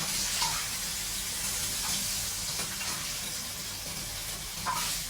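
Pieces of sea shol fish fry in hot oil with a constant close hiss and sizzle, broken by occasional small crackling pops.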